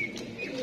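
Brief soft coo from a Sialkoti pigeon, close and alone, a short low throaty call.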